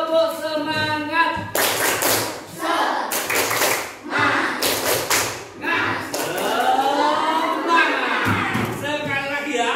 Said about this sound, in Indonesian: Ya, kita tepuk semangat. Bisa tepuk semangat? Coba, 2, 3, tepuk semangat.